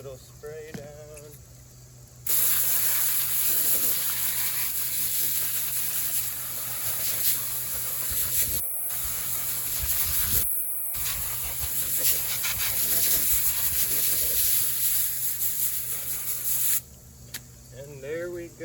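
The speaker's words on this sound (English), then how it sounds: "Last little spray down." A water spray hisses steadily for most of the time while rinsing Alpinestars Tech 10 and AXO Dart Pro motocross boots, loud and close, with two brief cut-offs midway and quiet moments before and after.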